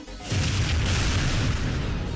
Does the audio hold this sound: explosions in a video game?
yes